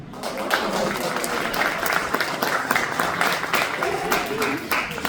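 A crowd claps at a political campaign kickoff event, the separate hand strikes audible through the wash of applause, with talking mixed in throughout at a moderate level.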